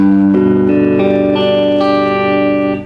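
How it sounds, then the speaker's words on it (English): A clean, ringing guitar chord strummed a few times, each note sustaining clearly, played close and fairly loud with no voices. "when you strum all the notes it should sound like this"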